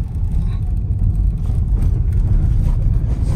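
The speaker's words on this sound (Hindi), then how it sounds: "हम आपकी गाड़ी को थोड़े से खराब पैच पर चला करके देखते हैं कि इसका सस्पेंशन कैसा है" Hyundai Grand i10 Nios automatic hatchback driving over a rough, broken road patch, a close, loud low-frequency rumble of tires and suspension with small irregular thumps and knocks throughout.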